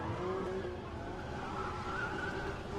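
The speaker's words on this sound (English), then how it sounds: "Powers past the judges, screeching as he goes past." A Nissan 370Z drift car at a Red Bull drift event in Muscat screeches its tires in a continuous, sustained squeal over a roaring engine, heard from a distance with no talk.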